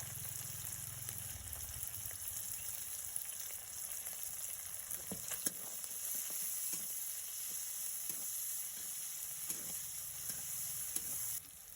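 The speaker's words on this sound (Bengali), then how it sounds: "আমি চিকেনটা ভালো করে ভেজে নিয়েছি" Chicken frying in a pan with chili paste and green chilies, a steady close sizzle running throughout with occasional soft stirring clatters, no voices.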